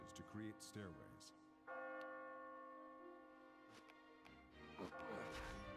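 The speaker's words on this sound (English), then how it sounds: "As you near the top, you will hear a bell ringing." In the video game Catherine, a bell rings near the top of the tower, a resonant tolling with sustained ringing tones heard over a backdrop of other game sounds.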